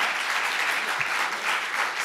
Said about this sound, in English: Please give them a round of applause of welcome